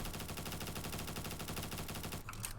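An M4A1 rifle in Roblox Bad Business firing a rapid, unbroken full-auto burst of evenly spaced shots, loud and close, cutting off just before the end with a few clicks.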